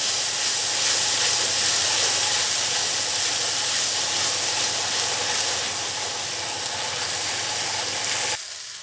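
Cabbage curry seasoned with salt sautés in a hot pan, giving a loud, steady broadband hiss of sizzling and steam that holds evenly, then drops away abruptly near the end; no voices.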